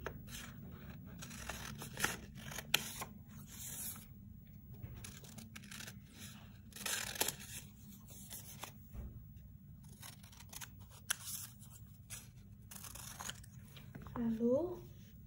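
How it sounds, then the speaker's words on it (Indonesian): Scissors snip and cut through paper in repeated crisp bursts, close and fairly loud, over a steady low background hum, while someone speaks Indonesian throughout, explaining a children's craft activity. "Kemudian kita gunting juga."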